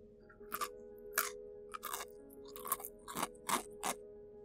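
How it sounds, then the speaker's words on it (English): A small crunching sound effect, like something being chewed or crushed, comes as about seven separate crisp crunches at an uneven pace, close and clear against near silence. "a small crunching sound coming from the room down the hallway"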